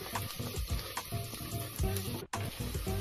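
Onions sauté in hot oil in a pan for vegetable biryani: a continuous close sizzle and fry broken by repeated scraping stirs, with a brief drop in sound near the end and no speech.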